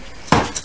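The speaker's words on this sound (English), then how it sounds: "busy chiseling out the rest" A chisel struck with a hammer or mallet to cut out a wooden cross lap joint, two sharp, close knocks in quick succession.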